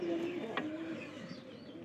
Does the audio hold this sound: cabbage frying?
no